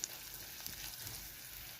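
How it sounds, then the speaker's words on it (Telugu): A popu tempering with asafoetida sizzling in hot oil for a snake gourd and chana dal curry, a soft, steady crackle and fry heard close and alone for a couple of seconds. "ఇదేనండి పోపు. ఈ పోపు వేసుకోవాలి"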